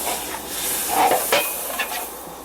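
Butter sizzling and frying in a pan at a Kentucky turkey camp, a steady close hiss with a few brighter crackles and spatters rising and falling, no talking.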